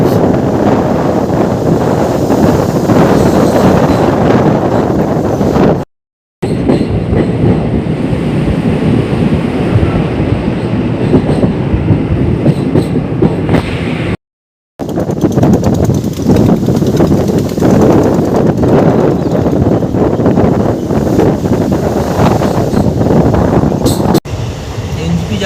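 A train rolling across the long Farakka bridge gives a steady, loud rumble mixed with heavy wind buffeting, broken by two brief gaps of silence.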